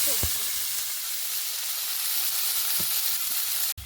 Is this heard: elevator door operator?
no